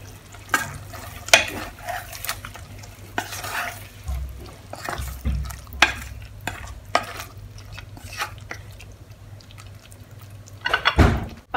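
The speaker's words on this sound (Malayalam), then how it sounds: "ഇനി ഇതിൻ്റെ മുകളിലേക്ക് കറിവേപ്പില ഇട്ട് കൊടുക്കാം. എന്നിട്ടൊന്ന് മിക്സ് ചെയ്ത് കൊടുക്കാം." Green chicken curry with curry leaves stirred in a pan, Kerala style: a spoon scrapes and clinks against the pan in scattered strokes over a soft low hum, with a few louder knocks near the end.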